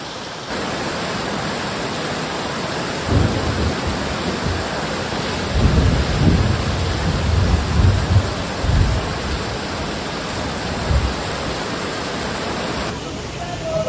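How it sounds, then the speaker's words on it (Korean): Heavy rain pours steadily during a thunderstorm in Antalya, Turkey, with low rumbles of thunder rolling through the middle of the downpour, loud and close throughout. "지금 이 건물이 번개를 맞았나봐요. 불이 꺼졌습니다."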